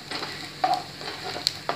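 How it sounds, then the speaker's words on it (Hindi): Roughly chopped half-inch pieces of ginger stir-frying in a pan for chicken ginger gravy, a low steady sizzle broken by a few sharp spatula scrapes and clicks, close and fairly quiet. "2 से 3 मिनट इसको फ्राई करेंगे"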